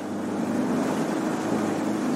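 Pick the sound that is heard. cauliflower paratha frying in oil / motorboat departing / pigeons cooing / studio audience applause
motorboat departing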